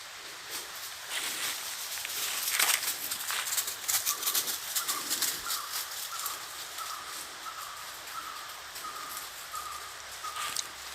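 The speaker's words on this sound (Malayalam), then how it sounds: "കിളികളുടെ കരരാവം കേൾക്കാം" Birds call repeatedly in the distance at Kongamala, a steady series of soft chirps over rustling, with occasional nearby clicks and movement.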